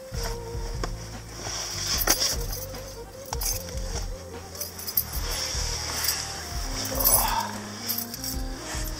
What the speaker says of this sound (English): Keys on top of keys on top of extra keys.